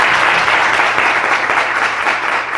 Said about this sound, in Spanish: les damos un gran aplauso